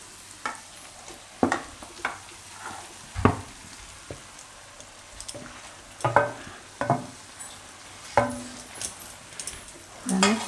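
Mashed eggplant for a Gujarati lilva oro goes into a pan, with soft frying sizzle beneath repeated sharp scraping and clinking strokes of a spoon stirring against the pan.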